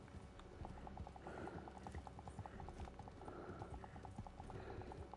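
Horse hooves clip-clop in a steady, even trotting rhythm in a Wild West video game, moderately close and quiet, with soft background game ambience.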